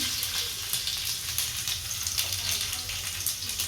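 Garlic tempering sizzles in hot oil for palak-style greens, a steady bright frying hiss at moderate level with small crackles and a low hum beneath.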